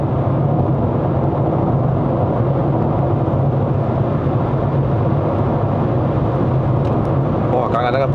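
Road and tyre roar from a 2024 Proton S70 Flagship X taking a bend at about 160 km/h on a Malaysian road, a steady loud broadband rush with tyres near their grip limit, continuous throughout.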